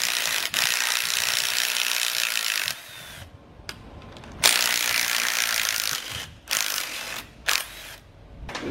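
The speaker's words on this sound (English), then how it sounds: "Next step will be to remove the front cover on this transmission, which are 12mm bolts." A ratchet backs out 12 mm bolts from a transmission front cover, with loud, fast, close clicking in several bursts separated by short pauses and single clicks, and no voices.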